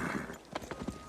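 Horse hooves clip-clop in a short burst of quick, distinct knocks from a film scene, several hoofbeats close together and fairly faint.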